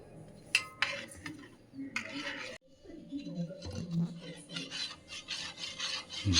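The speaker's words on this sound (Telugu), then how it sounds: "ఆయిల్ కాగేలోపు మనము ఈ పిండి కలుపుకోవాలి" Flour batter mixed by hand in a bowl while oil heats, with rough rubbing, scraping and occasional clinks of utensils in irregular strokes under someone talking throughout.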